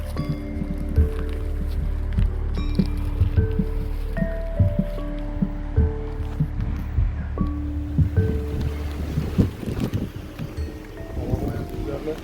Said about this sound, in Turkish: Evet baya bir rüzgar var.